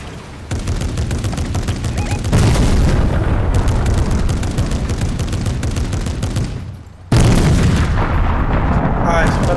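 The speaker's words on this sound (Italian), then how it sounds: "Vai, sparagli le bombe!" Bombs exploding in Fortnite mix with dense, rapid gunfire, making a loud, continuous barrage of booms and cracks, with a brief drop before another heavy blast; excited voices shout over the chaos.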